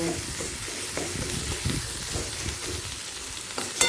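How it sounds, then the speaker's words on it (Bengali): Spice paste fries with potatoes in a pan, a steady sizzle broken by repeated scraping stirs, close and fairly loud throughout. "মশলাটা এবার আলুর সাথে কষিয়ে নেব"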